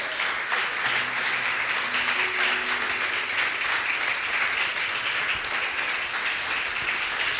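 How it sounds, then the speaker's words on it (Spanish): Church congregation applauding during a Spanish-language sermon, a steady wash of clapping filling the space for the whole stretch at moderate loudness, with faint voices and hums underneath. "bríndale un fuerte aplauso"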